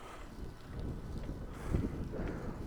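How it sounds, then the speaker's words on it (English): Wind buffets a camera microphone on a bike ride along the Cedar Lake Regional Trail, a steady low rumbling roar that swells and gusts throughout with no other clear sounds. "Obviously you've got the wind, you can hear it"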